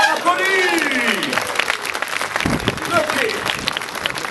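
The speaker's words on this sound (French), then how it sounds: "Et ça sera applaudi." Audience applause at an elite cycling final, with clapping and cheers beneath an announcer's voice.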